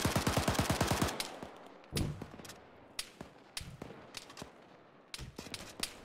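ArmA 3 game gunfire with an opening rapid burst of automatic shots, then a scatter of single and short-burst gunshots at irregular intervals, some sharp and close, others softer and more distant, with no talking.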